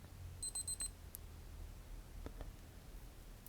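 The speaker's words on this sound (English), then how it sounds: "And you get the high-speed beep with this one." A Casio G-Shock Mudmaster GG-1000 countdown timer gives a short burst of rapid, high-pitched electronic beeps, faint and close, with quiet background hiss before and after.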